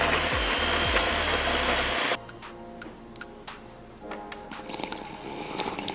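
A blender whirs loudly for about two seconds blending oat milk into a smoothie, then cuts off abruptly, leaving quiet room sounds with small clinks and rustles.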